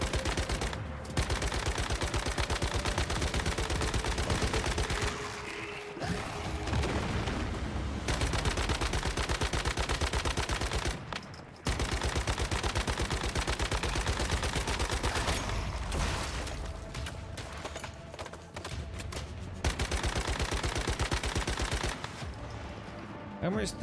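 Video game gunfire in a shooter match, with dense continuous bursts of automatic shots running almost nonstop and only brief pauses between loud volleys.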